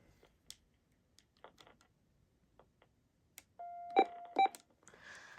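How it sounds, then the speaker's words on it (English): An RCA telephone (model 25424RE1) sounds short electronic hold tones, a pair of clear beeps and a brief warble heard alone among faint ticks and clicks. "We do hear a tone when it's on hold."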